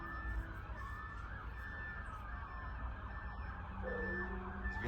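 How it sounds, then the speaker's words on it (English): A wailing police siren sounds from outside, steady and fairly loud across the whole stretch, with a rising and falling tone over low background rumble, while a Polaris Predator 500 ATV is being worked on indoors. "It sounds like someone's getting chased by the cops out there."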